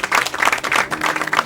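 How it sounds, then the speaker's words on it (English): A crowd gives a short, lively round of applause for visiting chiefs at a gathering, with dense clapping bursts across a second and a half. "Well, give them a round of applause"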